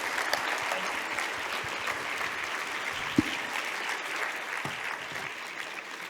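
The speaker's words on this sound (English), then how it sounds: "So let's please, with a big applause, say big thanks." Audience at an economics conference applauding to thank the speakers, a steady, fairly distant wash of clapping with a single sharper clap standing out midway.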